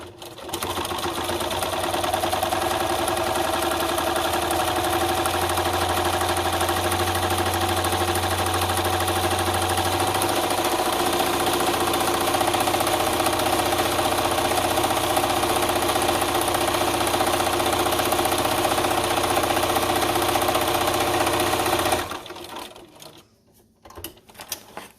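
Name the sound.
Bernina sewing machine stitching vinyl bag strap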